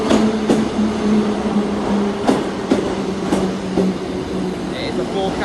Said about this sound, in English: here's Great Western Railway 158. Specifically 158239. Coming to Exeter St David's.